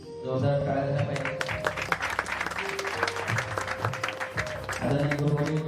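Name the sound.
audience applause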